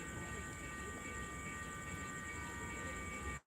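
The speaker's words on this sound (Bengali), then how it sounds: "ট্রেন চলে আসলো" A passenger train, probably coming from Chattogram, rolls in with a steady low rumble of wagons and a sustained high tonal whine, continuous and fairly near, ending in a sudden brief dropout.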